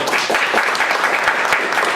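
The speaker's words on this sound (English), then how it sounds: "a big round of applause for Wayne, my buddy here." A crowd applauds in a dense, steady wash of clapping.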